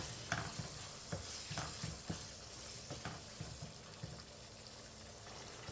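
Chopped tomato and spices sautéed for a broiler chicken curry, a soft, continuous sizzle broken by repeated scraping stirs of a spatula in the pan.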